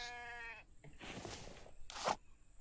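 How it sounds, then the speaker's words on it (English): Sheep in a PC survival video game bleat in a short series, one drawn-out harmonic bleat followed by breathier calls, fairly close and loud against a quiet background. "Sheep."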